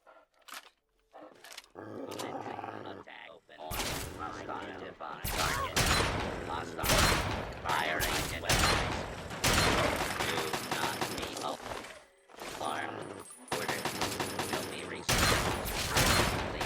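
Automated turrets in Fallout 3 fire in repeated bursts of gunfire, loud and close, with sharp bangs clustered throughout and brief pauses between volleys, amid other game noise.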